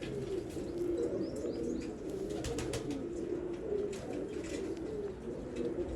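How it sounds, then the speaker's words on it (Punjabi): Pigeons of a pure Babe Jante Wali breed pair, ringed birds, coo in a steady low murmur with occasional chirps, close and continuous throughout. "ਬਾਕੀ ਤੁਸੀਂ ਆ ਮਕਮਲ ਕਬੂਤਰ ਚੈੱਕ ਕਰ ਲਓ ਆਪਣਾ"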